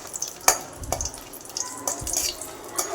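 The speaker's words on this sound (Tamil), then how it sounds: "இதில் இந்த 6 பட்டை மிளகா போட்டு வறுத்து எடுத்துக்கலாம்" Six dried red chillies lightly roasting in a little oil in a pan: soft stirring scrapes and a faint, quiet sizzle, broken by a few sharp clicks and taps of the utensil against the pan.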